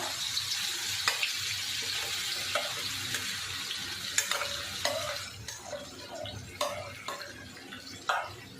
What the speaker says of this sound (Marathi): त्यासाठी मिरची तेलामध्ये चांगली परतून घ्यायची